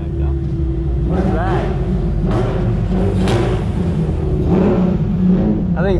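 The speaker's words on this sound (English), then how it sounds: "I'm stoked we get a full Ferrari around the track, though." A Ferrari sports car at Circuit of the Americas, heard from a following car as a loud, steady engine roar with rising revs and constant road rumble, while people talk over it.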